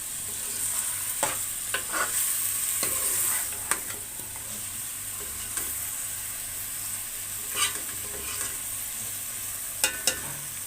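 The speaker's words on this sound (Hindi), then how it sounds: "अरबी और गोश्त की हमने अच्छी तरह से बुनाई करनी है मसाले के साथ" Taro and meat being stir-fried with spices in ghee, a low steady sizzle broken by occasional scrapes and clinks of a spoon against the pot, close by and with no voices.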